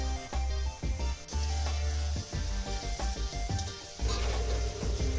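Chopped tomatoes sizzle and sauté in a hot pan for Coimbatore-style seeraga samba chicken biryani: a steady, close frying hiss with irregular stirring knocks, heard alongside a tonal background throughout.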